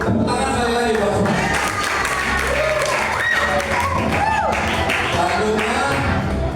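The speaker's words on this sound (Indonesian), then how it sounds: "Tepuk tangan sekali lagi buat semua." Audience at a charity cosplay event clapping in a dense, continuous round of applause, with crowd chatter and taps mixed throughout.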